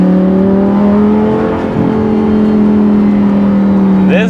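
A Lamborghini Gallardo engine drones loudly and steadily from inside the car, its pitch climbing slowly as it accelerates through the whole stretch.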